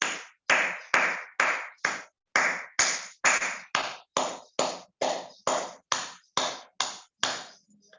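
A meditation group claps together in thanks, a slow, even series of about sixteen separate, crisp claps spaced roughly half a second apart, each ringing briefly before the next.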